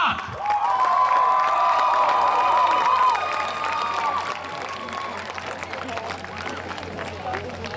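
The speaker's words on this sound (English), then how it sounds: "another round of applause for the Ukrainian Dance Workshop with Гопак!" Applause and cheering from a crowd at a Ukrainian cultural festival honour the Ukrainian Dance Workshop after a Hopak, a dense steady roar lasting several seconds that eases off slightly toward the end, with a sustained tone running through it.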